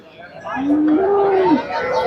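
A cow at the Karungalpalayam cattle market gives a single loud, drawn-out moo close by, rising and holding before trailing off against low background murmur.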